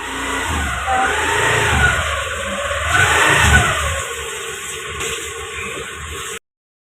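A motorbike or scooter engine approaching and revving at medium loudness, the sound swelling twice as it nears and then fading out, with no voices.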